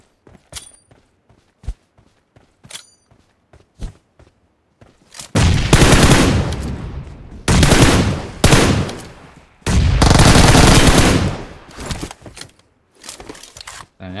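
Repeated heavy AMR sniper rifle shots in PUBG Mobile, loud sustained blasts in bursts with clicks and handling noises between them.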